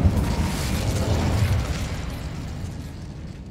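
Burst of fire from the Incendio spell in Hogwarts Legacy, a loud roaring whoosh with crackling pops at the start that fades gradually over a few seconds, with no talking.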